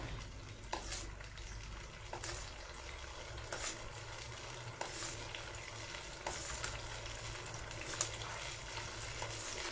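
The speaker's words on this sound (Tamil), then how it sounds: "இப்போ இது கொஞ்சம் நல்லா தொலாவி விடணுங்க தொளாவி விட்டு நல்லா ஒரு ரெண்டு கொதி நல்லா வரணுங்க" Orange peel tamarind curry boils in a pot while being stirred, a steady bubbling sizzle with soft scraping and occasional light clinks of the spoon against the pot, moderately quiet and without talk.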